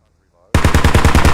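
Gunfire in the video game Squad erupts suddenly after near silence into a loud, rapid automatic burst of evenly spaced shots that continues to the end.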